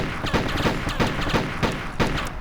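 Rapid bursts of gunfire in a ray casting video game, repeated shots at a steady rhythm, loud and close throughout with no talking.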